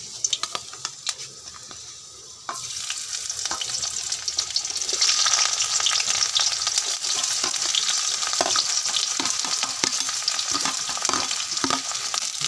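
Onions sizzling in hot oil in a pan for chicken liver curry, quieter at first, then a loud, dense crackling fry begins at about two and a half seconds and continues steadily with occasional scrape and stir clicks.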